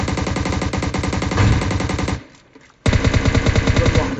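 Automatic gunfire in the mobile battle royale game PUBG Mobile: loud, rapid, continuous bursts with a brief pause before firing resumes just as hard.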